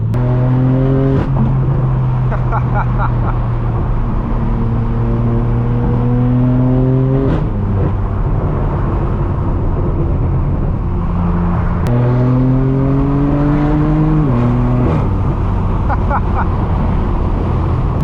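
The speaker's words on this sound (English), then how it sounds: "the sound of this inline 6 does not get old. Man, it just sounds so deep and raspy" Straight-piped BMW M4 F82 inline-six exhaust revs loud and close, climbing through gears in rising sweeps with a deep, raspy drone, a brief lift near the middle, then pulling hard again.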